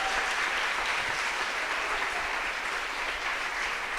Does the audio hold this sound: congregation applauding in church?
yes